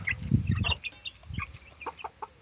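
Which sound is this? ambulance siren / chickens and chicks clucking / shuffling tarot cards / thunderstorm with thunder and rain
chickens and chicks clucking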